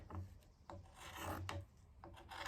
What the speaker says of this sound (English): So what I'm going to do is I'm going to cut those away.